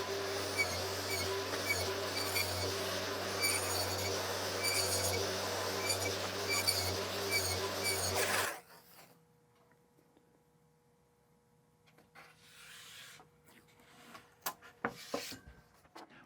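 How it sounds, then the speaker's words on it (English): A saw cuts rabbets in cabinet panels, a steady loud machine whine with a rhythmic ticking. It stops abruptly halfway and a few faint knocks and clatters follow. "Since I've already got the saw set up, this should go pretty quick."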